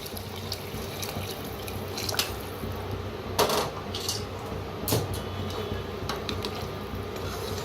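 Hot water pours steadily with a continuous splashing hiss, broken by a couple of brief louder clinks, and no one speaks.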